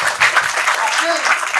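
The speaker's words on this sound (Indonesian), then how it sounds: "Tepuk tangan untuk semua." An audience at an Indonesian talk about joyful worship claps in a dense, steady burst of applause, close and loud for the whole stretch, with voices mixed into the clapping.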